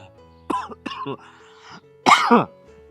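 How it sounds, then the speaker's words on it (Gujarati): A few close coughs, two short ones followed by a louder harsh burst, with quiet pauses between. "આ વાતું સાંભળીને તો ઉધરસ ચાલુ થઈ ગઈ."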